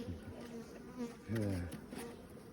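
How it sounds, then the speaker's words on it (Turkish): Honeybees buzz around a beehive outdoors, a close, wavering drone that rises louder midway as a bee passes near, with faint background noise. "Dışarıda var bir arı ya"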